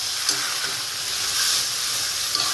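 Vegetarian banana flower curry (mochar ghonto) frying in a pan, a loud, close, continuous sizzle and hiss with a few soft stirring scrapes.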